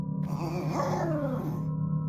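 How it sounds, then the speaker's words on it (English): A dog growls low and steadily for about a second and a half, with rising and falling whining tones, a close effect in a horror story that stands alone without speech over it. "Rex backed away, growling."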